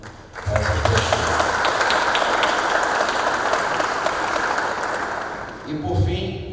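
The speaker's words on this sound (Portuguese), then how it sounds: "pedir uma salva de palmas também para essas pessoas" Sustained applause from a congress audience at the opening of an engineering event in Rio, a dense wash of clapping that swells after a brief pause, holds steady for several seconds and tapers as a voice returns near the end.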